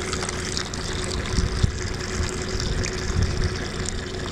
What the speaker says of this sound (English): Pour the water into the bowl,